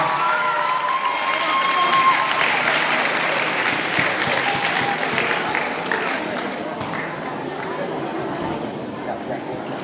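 Audience applause fills a hall at a prize ceremony for a youth Bible verse recitation competition, dense and sustained throughout, with a voice briefly audible near the start.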